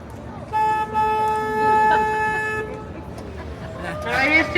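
A sustained car horn blares steadily for a couple of seconds amid street noise by San Antonio's River Walk, then fades as traffic sounds and other tones continue.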